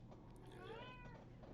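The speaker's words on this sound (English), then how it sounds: "That's your cat that was yelling at you?" A pet cat named Lux gives a single drawn-out meow that rises and falls in pitch, close by over a steady low room hum, with no talking.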